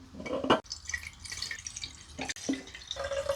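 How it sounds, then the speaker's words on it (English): Cherry melomel brew poured by hand into a clean vessel, with splashing and trickling liquid broken by a few sharp clinks and drips, close and moderately loud, with no voices. "Rather than siphoning this, I'm just going to pour it in"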